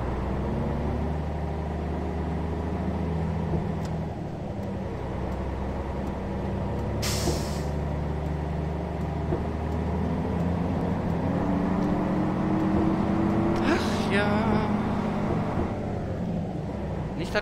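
Bus in the OMSI 2 driving simulator pulling away in first gear, a steady engine drone rising in pitch with a couple of brief hissing air bursts, continuous and close.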